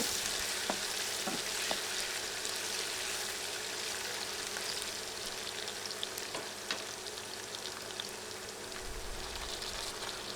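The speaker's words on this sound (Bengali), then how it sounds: "আমি এক টেবিল চামচের মতো রসুন দিলাম আর আদা দিলাম একটা চামচের মতো বিশ সেকেন্ডের মতো এগুলো ভেজে নিব" Garlic and ginger fry in a pan for a broiler chicken curry, a soft, steady crackling sizzle with scattered sharp pops and light utensil taps, close but fairly quiet and free of voices.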